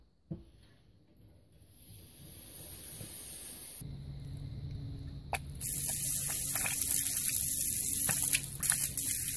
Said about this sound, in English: It's gonna come out our hose and push all the air and water outside.